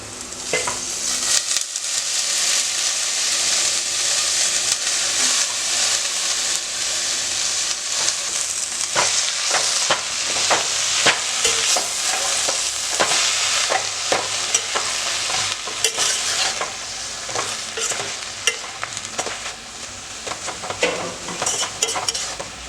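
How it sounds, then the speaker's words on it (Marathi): Bharangi forest flowers are sautéed with onion, chili and turmeric in a pan, giving a loud, continuous hissing sizzle under repeated scraping stirs, close up with no talk. "आता याच्यामध्ये मी थोडीशी हळद घालते आणि परतून घेते"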